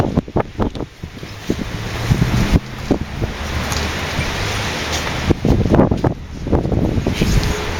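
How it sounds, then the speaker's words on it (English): Strong wind buffets and roars across the microphone, with gusty rumbling bursts and a steady blustery hiss throughout. "It's very windy."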